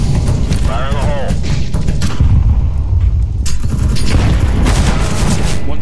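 A grenade explodes in a video game with loud, deep booms and bursts of gunfire-like cracks, mixed under overlapping voices of players talking.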